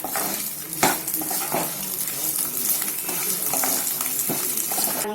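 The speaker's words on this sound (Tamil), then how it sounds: "வதக்கினது போதும்." Pearl millet chutney ingredients with rock salt are stirred and sautéed in a pan, a continuous close sizzle broken by repeated scraping and clinking of a spatula against the metal.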